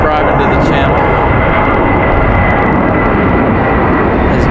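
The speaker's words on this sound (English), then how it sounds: "As JetBlue sneaks out of here off to San Juan, Puerto Rico." A JetBlue jet airliner departs Raleigh-Durham International for San Juan on a windy day, its engines a loud, close, unbroken roar filling the whole span, with a voice faintly present over it.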